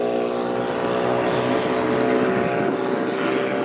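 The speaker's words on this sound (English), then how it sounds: "That guy has a friggin' loud exhaust." A car with a very loud exhaust drives along a residential street, its engine a dense, steady roar that stays close and loud through the whole stretch with no pause.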